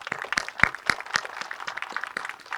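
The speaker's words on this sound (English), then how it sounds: "let's give her a round of applause" Sparse, irregular hand claps from a small audience at a police department event, a handful of separate sharp claps spread unevenly across a short stretch.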